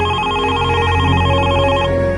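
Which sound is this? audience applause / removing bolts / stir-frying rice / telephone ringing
telephone ringing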